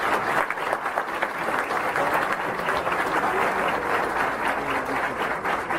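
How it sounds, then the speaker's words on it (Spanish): A large audience at an international book fair greets a featured speaker with loud, sustained applause, many hands clapping in a thick, steady wash throughout. "Recibimos con un fuerte aplauso"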